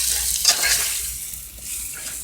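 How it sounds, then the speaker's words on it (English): Meat searing in olive oil in a pan makes a bright hiss and crackle, with a brief scraping stir near the start and no talk. "Okay, so we're searing these a little bit, making them tender."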